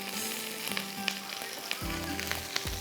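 Chapli kebabs frying in butter in a hot pan, a steady close sizzle with sharper crackles and a louder burst of spitting as more meat hits the pan partway through.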